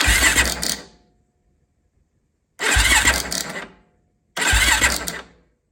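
A new starter cranks a Yamaha YFZ450 ATV engine in three separate bursts, each whirring, grinding attempt lasting about a second, with silent gaps between them, loud and close.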